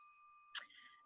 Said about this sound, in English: So President Sue, please ring the bell for that.